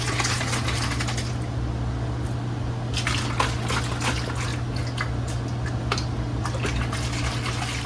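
A container sealed with a 3D printed Markforged TPU seal is shaken, giving irregular sloshing and knocking bursts over a steady low hum throughout, close by, with no talking.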